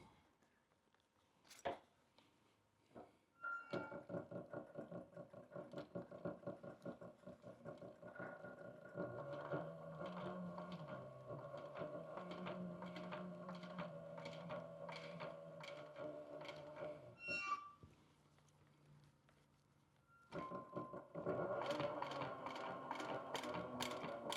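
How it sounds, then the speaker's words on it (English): A sewing machine runs a long stitching pass along a fabric fold, its rapid mechanical whir and ticking needle holding steady, pausing briefly, then starting again, close and quiet, with no talk. "I'm going to take and just sew right down along the edge of that fold"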